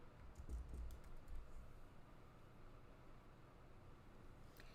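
Quiet, close keyboard typing: a quick run of key taps at first, then softer scattered clicks over a faint background hiss.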